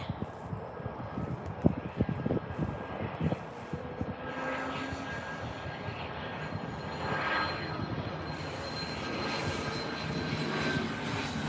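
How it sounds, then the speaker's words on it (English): A small jet aircraft at Tampa airport roars steadily from some distance for several seconds, with a broad engine rumble and whine and faint wind buffeting, and no voices. "this is going to be our last jet for the night, folks"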